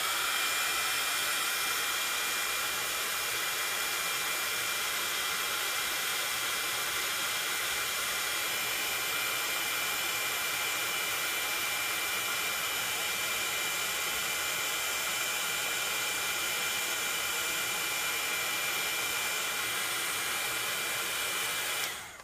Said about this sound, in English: heat gun, sorry.